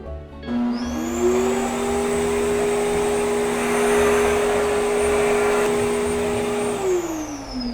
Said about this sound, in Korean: 이렇게 신발을 바람으로 털 수가 있네요